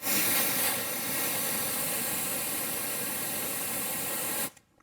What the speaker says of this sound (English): This is just a coolant spray, okay? It gets freaking cold fast.